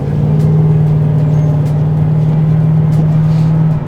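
A 2007 Ford Mustang Shelby GT rounds a roundabout, its engine giving a loud, steady low hum heard from inside the cabin, with no talking.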